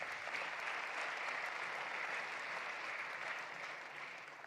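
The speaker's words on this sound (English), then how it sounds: "Give them a nice round of applause for all the efforts that's been put forward." An audience at the GCF Annual Meeting 2025 closing ceremony breaks into sustained applause, a dense and even wash of clapping that tapers slightly at the end.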